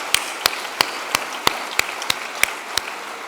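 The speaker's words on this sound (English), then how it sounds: "Can we just give the volunteers a round of applause?" An evening lecture audience applauds the volunteers, with a run of sharp, evenly spaced claps ringing out over a faint room background.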